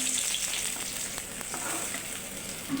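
Fish frying in a pan gives a steady, close crackling sizzle with fine popping, continuous and fairly quiet throughout, with no voices.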